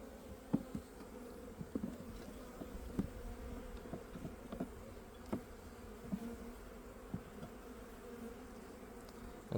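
Honeybees in a weak three-frame hive colony produce a faint, steady buzzing hum, with individual bees zipping past close by in brief, sharper passes.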